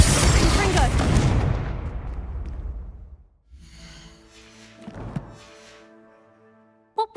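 Spell blasts from the Bombarda and Confringo charms in Hogwarts Legacy: a loud explosive boom with a long rumbling decay, followed by a quieter burst of crackling impact partway through and a sharp click at the end.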